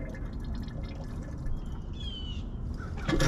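Water trickles and splashes steadily into the radiator of a 1976 Chevy LUV truck, a continuous watery pour with some dripping, close by and moderately loud, getting louder at the end.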